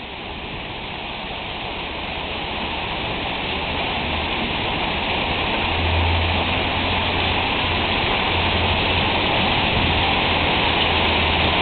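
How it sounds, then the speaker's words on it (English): Heavy rain pours down in a steady, dense roar, growing slightly louder over time, with a low rumble underneath and no voices. "This is rain now."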